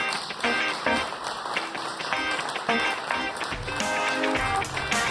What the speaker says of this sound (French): Merci d'applaudir Olivier Roche